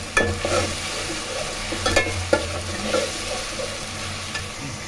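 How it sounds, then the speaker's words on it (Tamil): Ground onion and garlic paste frying in a pan for a fish curry, a constant sizzle broken by several sharp scraping stirs of a spoon against the pan, close and fairly loud. "வெங்காயம் நல்லா கிண்டி விட்டுகிட்டே இருங்க ஏன்னா நம்ம பூண்டு போடுறதுனால அடி பிடிக்கும்"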